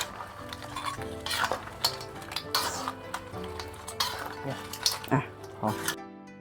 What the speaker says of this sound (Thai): คนเข้ากัน